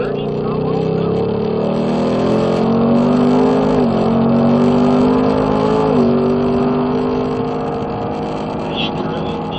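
A Ford Mustang accelerates on a rain-wet track, its engine note climbing steadily with two brief dips where gears change, loud and close, with voices intermittently over it.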